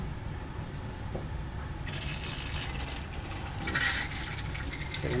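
Water rushes steadily through distillation condenser hoses, a continuous hissing flow that grows a little stronger partway through.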